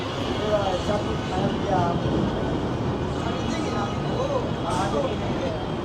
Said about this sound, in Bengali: ডান দিক থেকে প্রবেশ করলো বিভূতি এক্সপ্রেস, আর বাঁ দিক থেকে আসছে SMBT সুপারফাস্ট এক্সপ্রেস বেঙ্গালুরু